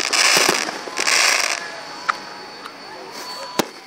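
Fireworks at Saddle Lake in 2014 burst in two crackling, hissing showers early on, followed by sharper isolated pops and a final loud bang, all fairly close.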